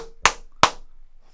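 Two sharp, close hand claps about a third of a second apart from a football fan celebrating a Liverpool goal against Manchester City, then quiet.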